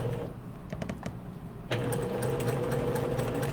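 Sewing machine stitching lightweight bias-cut interfaced shirt fabric, starting with a few soft clicks and then running in a steady close whirring hum.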